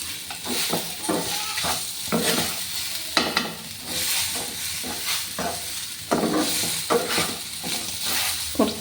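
Kaypola batter mixed with ghee is stirred vigorously in a pan, making repeated scraping and slapping strokes in a steady rhythm, close and fairly loud, with no talking.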